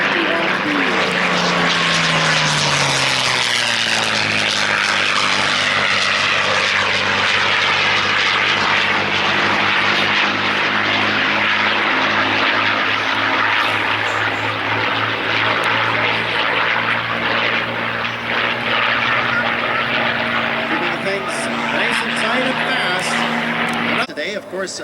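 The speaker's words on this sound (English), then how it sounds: "John Sessions in the P-51B." A vintage P-51B Mustang flies by at an air show demonstration, its piston engine giving a loud, continuous propeller drone that shifts in pitch as it passes, with an announcer talking over it.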